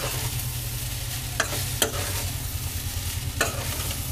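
Corn and boiled rice being stirred together in a frying pan, with a steady low sizzle of frying under a few sharp scraping clacks of the spoon against the pan.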